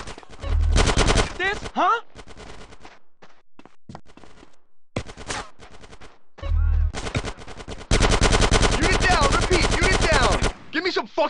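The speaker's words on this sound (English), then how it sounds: "Give me some fucking covering fire!" Gunfire in a GTA San Andreas shootout comes in loud bursts of rapid automatic shots with pauses between, close and harsh, with brief speech in between.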